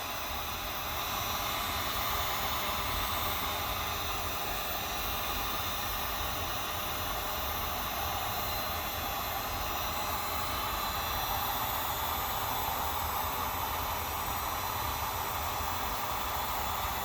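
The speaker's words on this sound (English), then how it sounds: "right now we got our heat gun already warming up" Heat gun blowing hot air onto a sharp hose fitting end during a JLT oil separator install on a 2013-2018 Ford Fusion 1.5L EcoBoost; a steady, loud, broadband whooshing roar runs unbroken throughout with no talking.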